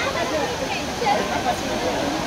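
Agaya Gangai waterfall plunging from 300 feet, a dense, loud roar of cascading water that fills the whole moment, with crowd babble blended in.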